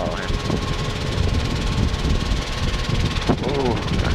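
Robinson R22 helicopter engine and rotor noise during a touchdown autorotation with the throttle rolled off, a loud, steady drone heard from inside the cabin under crew voices over the intercom.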